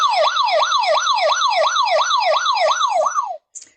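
Ambulance siren sound effect in a radio drama: a loud, fast wailing siren cycling steadily about a dozen times before cutting off abruptly.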